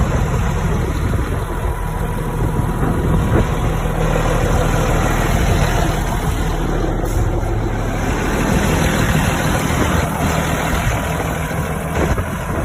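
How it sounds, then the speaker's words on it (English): A 1985 John Deere 8650 tractor's engine runs steadily, a loud continuous low rumble with a constant idle throb and no change in pace over the whole stretch. "Good looking, good running tractor."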